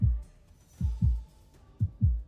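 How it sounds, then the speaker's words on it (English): A heartbeat sound effect thumps in low, close double beats, with about two and a half lub-dub pairs spaced evenly and nothing else around them. "My heartbeat is all I can hear"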